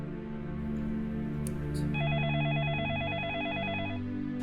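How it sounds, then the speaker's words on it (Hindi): A telephone rings with a warbling electronic trill, starting partway in and lasting about two seconds over a steady low background hum. "अरे इस वक्त किसका फोन आ गया?"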